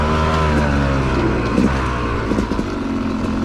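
A dirt bike fitted with a GYTR weighted flywheel runs during a ride test, its engine a close, continuous rumble with a few louder revving surges near the middle.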